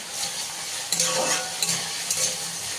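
Potatoes frying in a pan while being stirred, a continuous close sizzle broken by three scraping strokes of the spoon against the pan.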